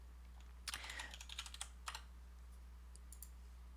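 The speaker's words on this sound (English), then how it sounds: "So let's just begin typing." Someone types on a computer keyboard, a quick cluster of faint clicks followed by a few scattered keystrokes, heard alone in a quiet room.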